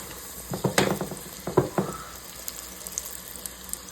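Floured chicken gizzards fry in hot oil, with a few sharp crackling bursts in the first two seconds settling into a quieter steady sizzle, close by and with no talking.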